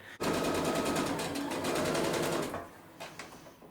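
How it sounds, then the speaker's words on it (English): A sewing machine runs in one steady burst of rapid, even stitching, close and loud, as it sews the pocket pieces of a handbag together, then stops, and a few faint handling knocks follow. "I've got my machine all set up with the color of thread that I want to use"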